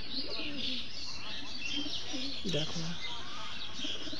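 Pigeons and their young coo and grumble softly in a loft, low murmuring calls scattered through the moment while a person speaks briefly.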